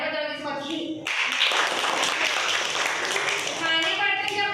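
Clapping breaks out for a correct answer to a riddle: a dense, steady burst of hand claps lasting about three seconds, with people talking just before and after it.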